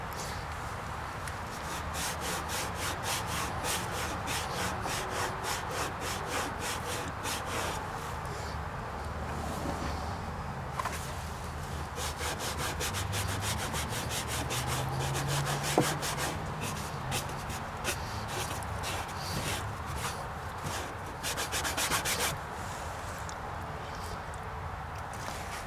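A cloth rubs Mothers Back to Black onto the black plastic trim of a Honda Rancher ATV, making close, rhythmic scrubbing strokes in bursts that go on steadily over a faint low background hum.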